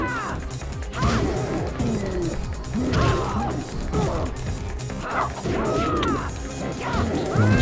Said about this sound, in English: I've got distractions in the background. Fucking dog.